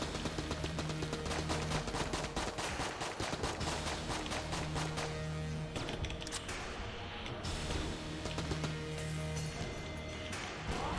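Rapid, continuous gunfire in the video game Enter the Gungeon, a dense stream of shots layered over steady in-game sound, stays fairly close and busy throughout.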